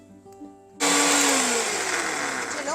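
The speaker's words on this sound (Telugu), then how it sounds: "వేసి ఇప్పుడు దీన్ని మనం మిక్సీ పట్టుకోవాలి" Electric mixer grinder blending ginger, garlic and a little rock salt in a jar with no water, starting abruptly after a quiet moment and running as a loud, steady whirring grind, alone.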